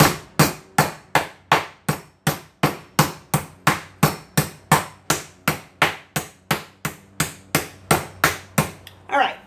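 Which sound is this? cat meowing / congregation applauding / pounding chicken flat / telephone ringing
pounding chicken flat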